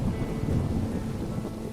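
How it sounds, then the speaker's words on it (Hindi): Heavy rain pours steadily with a deep rumble of thunder rolling underneath, dense and continuous throughout. "बाहर मूसलाधार बारिश और भयंकर गर्जना हो रही है"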